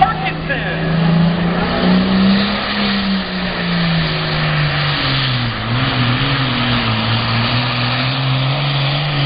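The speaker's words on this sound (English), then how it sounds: "In the lead at the Mack trailer starting line is the Commandeer, a John Deere 7820, Dan Parkinson." A John Deere 7820 pulling tractor roars at a county fair tractor pull, a loud sustained engine drone with a shifting, slowly falling pitch, while an announcer talks over it.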